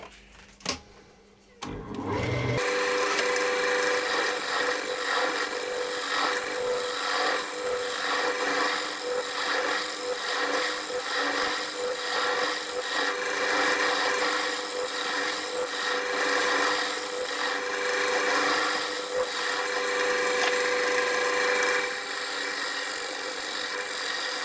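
Wood lathe cutting a mortise into a spinning wooden bowl blank, a steady loud whirring hum with continuous scraping that runs unbroken for most of the stretch after a short quiet start.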